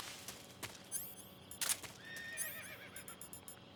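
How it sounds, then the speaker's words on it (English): Horse neighing in Metal Gear Solid 3, with several bright whinnies rising and falling across the clip, loud and close, alongside soft hoof clip-clops under the game's ambient backdrop. "Is that a horse?"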